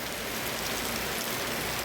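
Rain falls steadily during a stormy spell in Laos, a dense, loud, even hiss of drops on surfaces.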